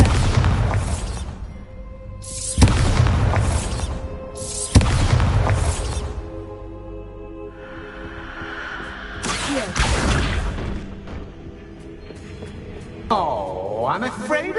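A spell-cast blast in a Harry Potter video game, the Bombarda charm: several loud booming bursts with whooshes and crashing debris, repeated in quick succession, with voiced lines spoken around them.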